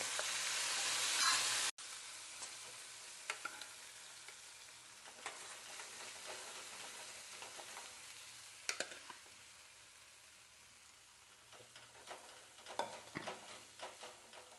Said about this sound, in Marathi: नंतर टाकून द्यायचं हे आपण शिजवून घेतलेलं गव्हाचं यामध्ये